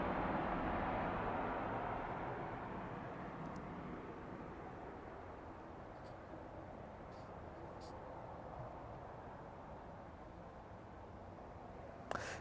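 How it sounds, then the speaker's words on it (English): A West Atlantic Boeing 737 arriving from Aberdeen and landing at East Midlands Airport in the evening, a faint, distant jet roar that slowly fades, with a sharp knock near the end. "the West Atlantic 737 making its way here from Aberdeen, landing into East Midlands"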